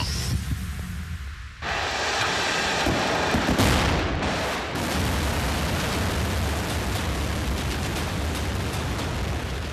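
A North Korean ICBM launch opens with a sudden deep blast, then a sustained, loud rocket roar that rumbles and crackles steadily, heard alone without speech.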